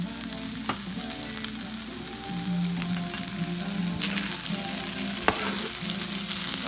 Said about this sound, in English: now I'm about to add my last ingredient to this rice. Some good old garlic butter.